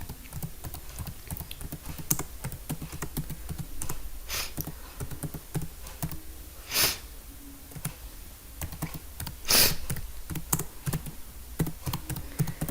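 Someone types a sentence on a computer keyboard with a quick run of close, crisp key clicks, broken by a few louder thumps like the space or enter key.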